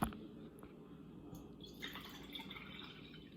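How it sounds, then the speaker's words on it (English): Water poured into glass jars at a faint, quiet level, a soft continuous trickle with light drips and a brightening fill tone toward the end. "I'm going to fill these jars with water."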